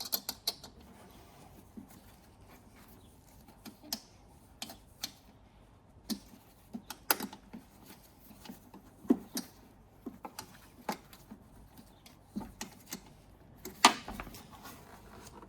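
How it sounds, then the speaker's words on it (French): Small clicks and faint ratcheting ticks come from a Torx 15 key screwing screws back in while LED bulbs are fitted in a Ford Fiesta 6, with scattered, irregular taps over a quiet background. "on va pouvoir revisser avec notre clé Torx de 15 les pas de vis."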